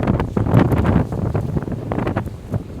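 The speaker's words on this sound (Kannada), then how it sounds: "ತುಂಬಾ ಗಾಳಿ ಬರ್ತಾ ಇದೆ." Strong wind gusts buffet the microphone outdoors near a temple, with a rough, loud rumble that surges early and then settles into a steadier rush.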